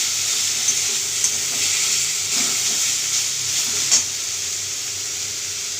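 Vegetables, including stem pieces, sizzle steadily with ginger paste in a hot pan while a utensil scrapes and stirs now and then.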